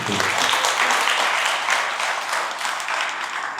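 An audience at a devotional lecture on the Holy Name gives a short burst of clapping, steady and close for a few seconds before easing slightly.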